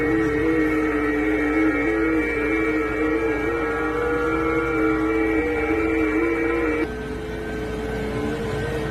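Steady radio transmission tones picked up at an intersection: several sustained electronic pitches hold level for about seven seconds, then drop to a lower, quieter pair that continues to the end, with no voices.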